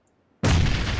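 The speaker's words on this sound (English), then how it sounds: "So I cooked the grenade and threw it, hoping that it would explode here." A grenade blows up in the PUBG battle royale game: after a near-silent moment, one sudden loud blast hits and rolls on as a heavy, sustained roar to the end.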